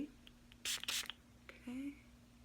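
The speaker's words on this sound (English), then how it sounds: "let me just spray this down so it cleans up" Two quick hissing bursts of cleaning spray hit freshly microbladed eyebrows close up, followed by soft faint handling sounds and a brief murmur of voice over a faint steady hum.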